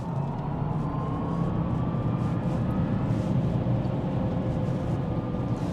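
A Rivian truck on new tires gives a faint, steady road and tire hum while driving on a highway, a continuous low rumble with no voices.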